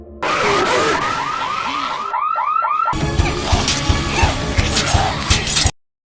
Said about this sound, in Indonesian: dia tidak sengaja memicu alarm yang langsung memanggil gerombolan zombie kembali